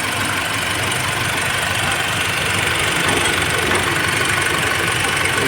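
A brand-new Mitsubishi Strada (Triton) turbo engine idles steadily, a loud, close, continuous mechanical hum with no one speaking.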